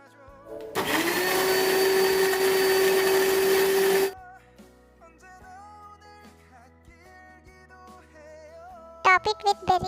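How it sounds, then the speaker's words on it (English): A blender grinds oats, almonds, dates, fresh blueberries and honey into a smoothie, a loud steady motor whine running for about three seconds before cutting off, followed by soft background music. "Grind it until smooth creamy texture."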